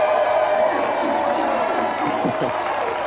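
TV studio audience on a 1995 video-game show applauds a special guest, snooker player Stephen Hendry, a steady wash of clapping and cheering heard throughout.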